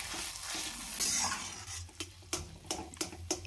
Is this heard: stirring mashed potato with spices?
yes